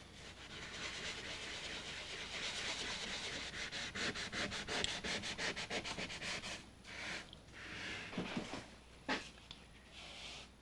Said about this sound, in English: I've been kind of scrubbing pretty hard, and it actually seems to be making a difference